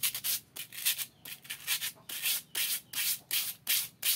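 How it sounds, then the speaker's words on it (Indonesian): Steady back-and-forth scraping of sandpaper on a fiber optic micro fishing rod, rhythmic strokes repeating about every half second, close and alone without voices. "untuk lebih menghaluskan lagi kita pakai amplas yang sudah diamplas"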